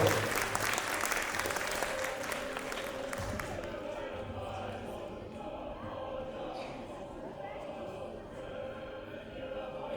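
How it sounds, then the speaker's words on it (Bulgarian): Audience applause for second-place finishers in the second age group at a children's patriotic contest in Bulgaria, loud clapping in the first few seconds that thins into scattered, fading claps and room murmur. "Аплодисменти за класиралите се на второ място във втора възрастова група."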